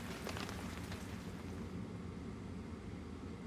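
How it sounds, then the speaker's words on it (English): Steady rain patter with a low rumbling undertone, continuous and fairly soft, no voices. "Hey, it's raining."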